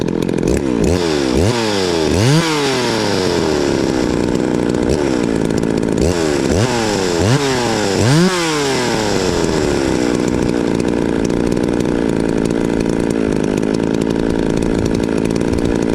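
A ported Poulan 3450 54cc chainsaw revved in repeated quick blips before dropping back to a loud, rough, steady idle, close by.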